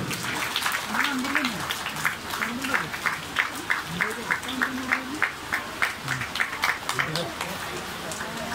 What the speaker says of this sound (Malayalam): കൈയടിക്കുന്നെല്ലാവരും